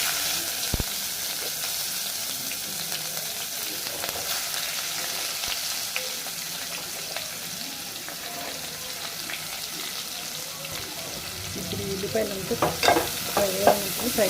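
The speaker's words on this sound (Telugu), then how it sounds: "ఇదిగోండి ఆనియన్స్ బాగా ఫ్రై అయ్యాయి" Chopped onions fry in oil with cashews for a chicken bagara rice dish, giving a steady close hiss with scraping stirs, turning louder and crackly near the end.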